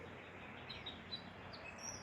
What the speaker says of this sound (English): I knew that birds was coming up here a little bit too often.